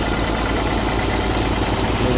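A tractor engine runs steadily at night during road cleaning, a continuous low idling rumble with vibration, loud and close, with no talk over it.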